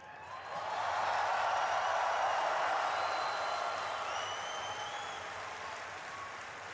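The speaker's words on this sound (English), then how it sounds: "I want everyone here to give a big cheer to all of your friends watching at home." Large convention crowd at BlizzCon cheering and applauding, a dense sustained roar that swells within the first second, holds steady and slowly fades toward the end.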